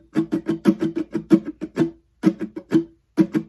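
Acoustic guitar strumming pattern 6 (live version), with close, loud rhythmic strokes in quick bursts, a short pause near two seconds, then more strokes.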